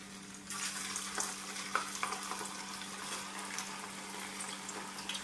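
Lentil garelu fritters fry in hot oil, a steady close crackling sizzle with small popping bursts, moderately quiet and uninterrupted, with a faint low hum underneath.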